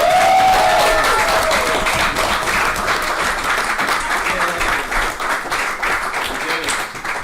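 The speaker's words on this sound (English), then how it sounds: "applaud and celebrate Shenmue 3 actually coming out" A live audience at a Burbank, California post-launch event for Shenmue 3 breaks into sustained, loud applause, with cheers and whoops mixed into the steady clapping as it gradually thins out.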